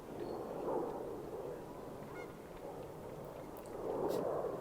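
Geese honk near a water hazard on a disc golf course, a few calls rising out of steady outdoor ambience, louder toward the end and moderately distant.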